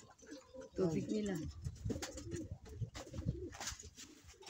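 Pigeons kept by a fancier coo in soft, low rounded calls that repeat through the clip, close to the recorder, mixed with faint chirps and light rustling.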